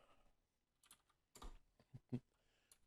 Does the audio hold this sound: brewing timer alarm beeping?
no